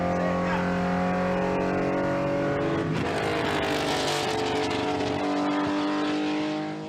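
A Porsche 911 RSR race car engine roars loudly at close range, its pitch climbing and shifting through gears as it drives past, with a brief burst of talk mixed in.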